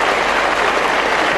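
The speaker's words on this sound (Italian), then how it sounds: "Facciamo un applauso per i protagonisti di questa serie televisiva" A studio audience on an Italian television show applauds the cast of a TV series: dense, steady clapping that fills the whole moment at an even, loud level.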